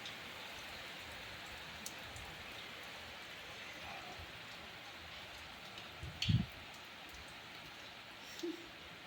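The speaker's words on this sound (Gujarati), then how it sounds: "હવે વરસાદ જામ્યો મિત્રો" Steady rain falls as a soft, even hiss of drops on surfaces during a full-moon-day shower in a Gujarati village home, with one brief dull thump partway through.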